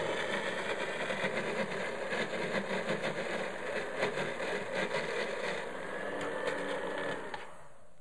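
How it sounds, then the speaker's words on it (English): A Magic Bullet blender whirs steadily while mixing creamy salad dressing for a kale salad, a continuous close motor drone with a high whine that drops away and stops near the end. "So with the magic bullet, we get it going, and then we give it a little shake"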